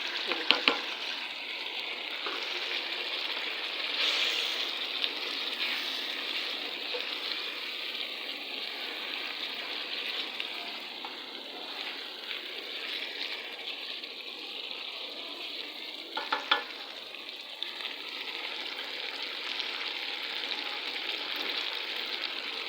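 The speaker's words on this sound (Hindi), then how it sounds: "अब मैं इसके अंदर टमाटो डाल दूँगी" Tomatoes frying in a pan with a steady, close sizzle that runs the whole time, with occasional faint scrapes and clicks of stirring.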